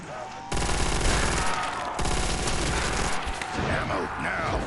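Sustained rapid gunfire from a Call of Duty custom zombies map, loud automatic bursts running almost continuously with dense rattling shots and explosive impacts in the game mix.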